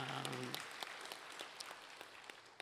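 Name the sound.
audience applause in a church service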